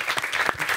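A short burst of audience applause at a live show, a dense patter of clapping hands, close and moderately loud, lasting under a second.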